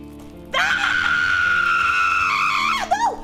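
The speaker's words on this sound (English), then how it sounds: "And the louder you scream about it, the better it works." A person lets out a long, loud sustained scream while playing the click-alternating video game The Game of Sisyphus, holding steady for over two seconds before breaking off with a short wavering yelp.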